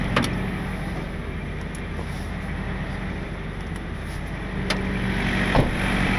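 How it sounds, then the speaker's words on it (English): A trailer reefer refrigeration unit runs with a steady, low, continuous drone at moderate distance, unchanging throughout, with faint wind-like rumble and a few light clicks. "The reefer unit's running right there."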